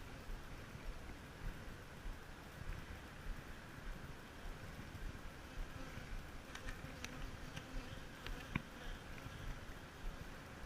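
An agitated honeybee colony drones with a steady, fairly quiet buzz while its hive is opened for inspection, and a few faint clicks and taps of handling the frames break through.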